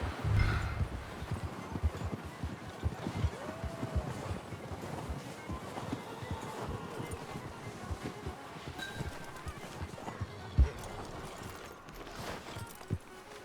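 Horse hooves clip-clop steadily on a dirt path in the Western open-world game Red Dead Redemption 2, a moderately close, uneven trot under faint wind and ambient background, with no talking.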